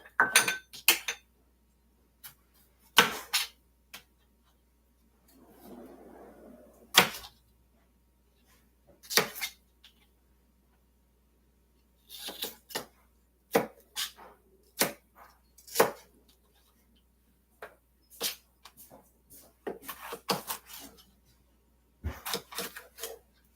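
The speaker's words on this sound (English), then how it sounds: "I'm filling up this blender, boy." Sauce ingredients, including a whole jalapeño, dropped into a blender jar. Sharp clunks and clattering knocks come in irregular bursts with quiet gaps, plus a short rustle partway through.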